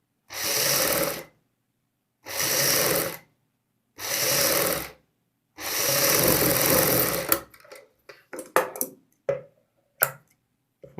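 A sewing machine stitches a kurti collar folded over buckram in four steady whirring bursts separated by short pauses, followed by scattered clicks and light handling of the machine and fabric.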